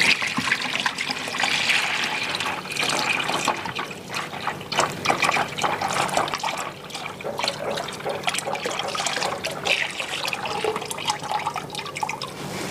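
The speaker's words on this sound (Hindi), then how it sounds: "अभी मिक्स करने के बाद हम इसको छान लेंगे एक बार अच्छी तरह से।" Flavored juice mixed from three premix powders is poured through a strainer, giving a steady close trickle and splash of liquid running continuously with small drips, no talking.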